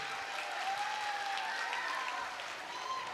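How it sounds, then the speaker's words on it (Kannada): Applause from an audience at an inauguration dance event in Karnataka, a steady dense patter of many hands clapping at moderate distance, filling the whole stretch with some crowd noise and a faint tonal line running underneath. "ಆ ಒಂದು ಕಾರ್ಯಕ್ರಮ ನಡೆಸ್ಕೊಡ್ತಿರ್ತಕ್ಕಂಥ ಎಲ್ಲ ಹೆಣ್ಮಕ್ಳಿಗೂ ಜೋರಾದ ಚಪ್ಪಾಳೆ ಬಂದ್ಬಿಡ್ಲಿ"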